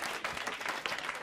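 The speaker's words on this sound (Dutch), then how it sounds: "Applaus voor jezelf." Brief burst of clapping from a small group, steady and close, with no voices over it.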